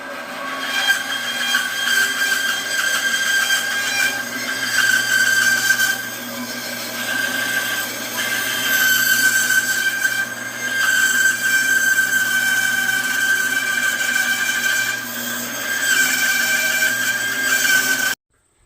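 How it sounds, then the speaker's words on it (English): A bandsaw cutting a curved piece of roofing for a guinea fowl winter shelter: a loud, steady whine with a high tone, running in long passes with brief dips, then stopping abruptly at the end. "We'll cut it out on the bandsaw."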